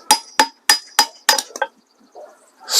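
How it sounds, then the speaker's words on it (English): A hammer taps metal five or six times in a quick, uneven series of sharp clinks, close by, then a brief scrape and rustle. "we're just going to gently tap until the center cap comes off"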